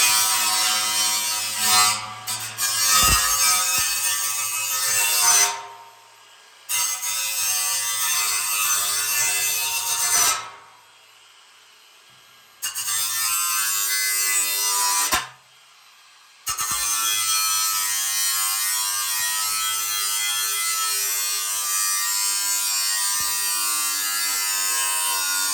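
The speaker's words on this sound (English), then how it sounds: "Let me just grind that down too." Close, loud, steady high-pitched whine of a power tool grinding down flooring, running in long continuous stretches broken by two or three brief pauses, with a few knocks near the start and no talk.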